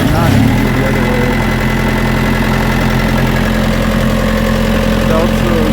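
A semi truck engine idles close by just after starting, a loud, steady low-pitched rumble with even vibration, following a brief rougher catch at the very beginning.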